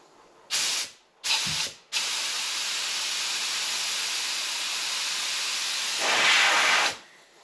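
A paint spray gun sprays thick high-build primer with a steady close hiss, starting with two short bursts and then holding one long spray for about five seconds before it cuts off.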